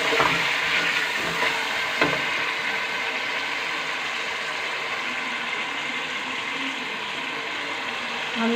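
Tomato paste frying in a pan with garlic and ginger, a steady close sizzle with crackling and occasional clinks of a stirring spoon, no talking.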